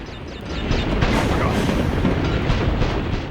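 A rising, rumbling explosion from Crash Bandicoot: The Wrath of Cortex swells after a few quick game blips and roars steadily and loudly for several seconds.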